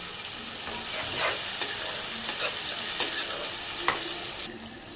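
A ground paste of cumin, ginger, chilli and onion fries in a pan, giving a steady bright hissing sizzle with occasional light taps of a stirring spoon, and nobody speaking.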